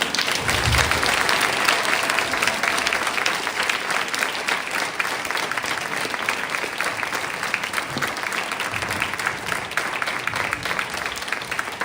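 Audience applause for Joanne Lee Kim, dense and steady sustained clapping from a large crowd, loud and continuous throughout with no talk over it.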